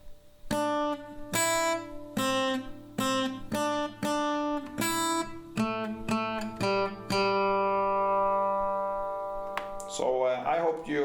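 An acoustic guitar plays a riff at the original tempo, with a series of bright, rhythmic strummed chord stabs followed by a long ringing chord and a brief scratchy strum at the end, close and clear with no talk.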